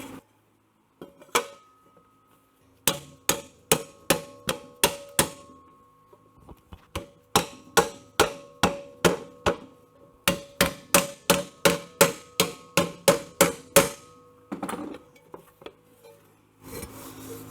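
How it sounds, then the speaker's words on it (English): Repeated hammer blows on a metal motorcycle belly pan for an Aermacchi, clamped in a vise in a workshop: sharp, ringing strikes in quick bursts of evenly spaced hits, with short pauses between runs, close and loud. "I think what I did now is to hold this in the vise and hammer this."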